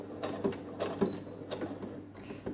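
Sewing machine stitching a small fabric Christmas pouch, soft rapid mechanical chatter in short uneven bursts at close range over a low background hum.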